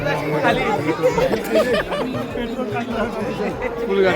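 Crowd of devotees talking all at once at the Aai Jogeshwari Mauli temple festival in Nagothane, a loud, continuous murmur of overlapping voices with a few brief laughs mixed in.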